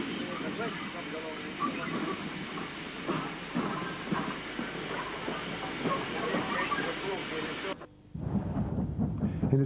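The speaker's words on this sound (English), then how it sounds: "This EMU is passing the junction where the loco depot tracks join the Glossop branch." An electric multiple unit train on the 1950s Woodhead line runs past a junction where depot tracks meet the Glossop branch, with a loud, continuous rumbling roar and rhythmic clatter that cuts off abruptly near the end.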